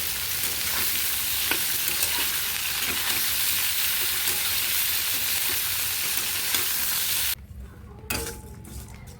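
Cauliflower fries in a pan with a loud, steady sizzle close up, dotted with faint scrapes of stirring before the sizzle drops away near the end.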